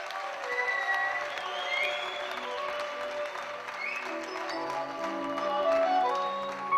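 An audience at a stage event gives sustained, close applause that rolls on steadily for the whole stretch, with a few faint tonal notes drifting underneath.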